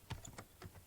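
A few separate keystrokes on a computer keyboard as a command is typed at a prompt, soft irregular clicks close by and fairly quiet, with no voices.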